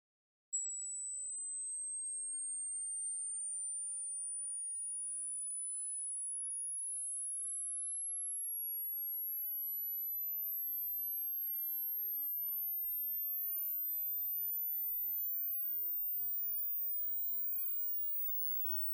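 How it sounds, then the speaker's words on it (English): A single pure high-pitched test tone sweeps steadily upward for about eighteen seconds, starting abruptly and fading out at the end, with nothing else heard. "I want to play a little sample to show that as you get older, there are certain frequencies you can't hear."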